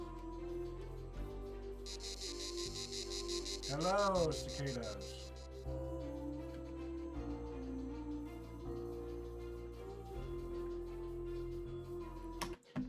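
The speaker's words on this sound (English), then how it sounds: "Hello, cicadas." Cicada ambience from the video game Minecraft: a buzzing, pulsing insect drone that swells for a few seconds over a steady background soundscape, with a voice talking alongside.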